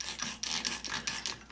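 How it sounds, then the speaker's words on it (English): Antique Yankee No 1530A hand drill gear mechanism spinning, a close rhythmic raspy whirring with repeated pulses as the crank turns, no talk. "No matter which direction I spin it, the drill spins clockwise."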